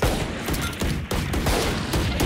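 Dense rapid gunfire from the tactical shooter Valorant, a near-continuous fusillade of loud overlapping shots with brief gaps, filling the whole stretch without talk.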